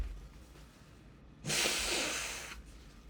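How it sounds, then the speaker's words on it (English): One short, forceful nose-blow, close and fairly quiet, a breathy hissing burst lasting about a second against a hushed room. "Let me blow my nose."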